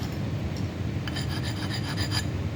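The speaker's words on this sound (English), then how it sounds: "You can take a stone if you want. You can use a piece of stone, sandpaper." A small-block Chevy connecting rod being lightly sanded with a stone or sandpaper, a soft, steady rasping rub close by that grows into a series of quick strokes, with no talking.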